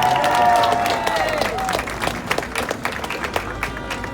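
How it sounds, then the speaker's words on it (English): Applause from a crowd at an outdoor rally against anti-Asian hate in Flushing, Queens, loud at first and then thinning into scattered individual claps with a few cheers. "Let's give them a round of applause."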